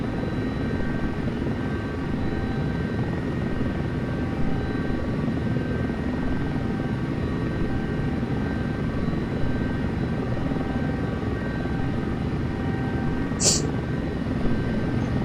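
A wheeled helicopter in a desktop flight simulator rolls along the ground, its steady, even rotor and engine hum droning continuously at moderate level, with a brief high click near the end.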